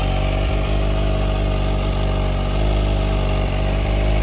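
A Kawasaki ZH2 motorcycle on its stock exhaust idles steadily up close, a loud, even, slightly muffled mechanical rumble with no talk over it.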